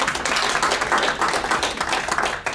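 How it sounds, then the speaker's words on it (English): An audience claps warmly to welcome a professor to the podium at a university brown bag talk, a steady patter of moderately close applause without talk. "please welcome to the podium with a warm applause on this big day, Professor Natalia Rapp."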